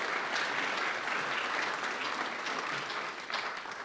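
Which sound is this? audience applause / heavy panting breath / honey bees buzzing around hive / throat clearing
audience applause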